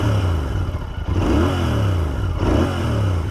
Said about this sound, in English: just listen to the 650 engine